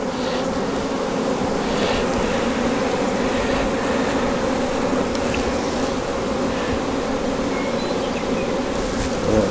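Dense, steady buzzing of many honey bees around open hives during colony splits, loud and close with a constant drone and no talking.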